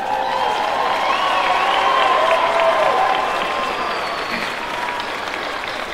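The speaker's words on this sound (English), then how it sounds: "Give them a round of applause." Commencement audience at a university graduation ceremony applauding, a steady dense roar of clapping with some cheering that holds strong throughout and eases slightly toward the end.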